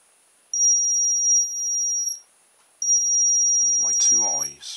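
A reverse parking beeper rewired with a light-detecting diode gives two long steady high-pitched tones, each about one and a half seconds, with a brief gap between them, then a voice speaks over the end of the second tone.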